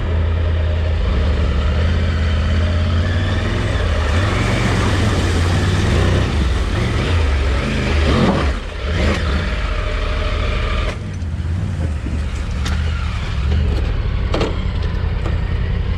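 An off-road vehicle accelerates in first gear, its engine droning loudly and steadily up close with rough, rumbling texture. The engine note shifts slightly, and a short dip and rattle come midway through.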